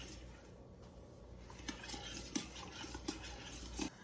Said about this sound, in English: Just stir, stir, stir.